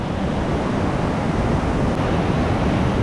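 A monsoon-swollen river in Idukki rushes past close by, a dense, steady roar of flowing water with wind buffeting the microphone.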